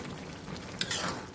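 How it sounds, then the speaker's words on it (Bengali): Shrimp and cauliflower curry boils in a village kitchen pot with a soft, steady bubbling hiss, close and continuous, with a brief brighter bubbling burst midway. "তরকারিতে বলক চলে আসছে"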